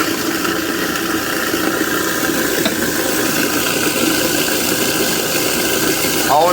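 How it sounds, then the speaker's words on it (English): Garbage disposer grinding ice cubes with tap water running through it, a steady, loud churning rush of water and grinding that holds the whole time, with a brief clatter near the end. "Always keep your water running when you're running your incinerator."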